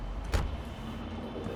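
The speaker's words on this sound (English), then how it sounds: "So when I get out of the car" A single car door thud lands near the start over a steady, low vehicle rumble while exiting a car in Cyberpunk 2077, with the engine bed continuing evenly afterward and no talk.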